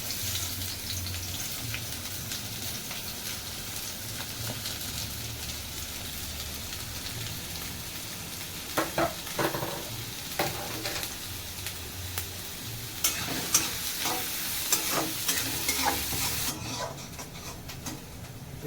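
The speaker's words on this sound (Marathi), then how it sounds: "तर आपण कांदा आणि मिरची टाकूयात." Onion and chili sizzling in a pan for pav bhaji, a steady crackling fry with brief louder bursts of spattering, close and continuous with no talk.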